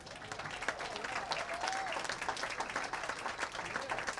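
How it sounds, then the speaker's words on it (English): Sustained audience applause for the finalists at a women's professional bowling open match-play event, a steady dense wash of clapping from a large crowd, with a brief voice or whistle faintly heard partway through. "One more round of applause for all of them."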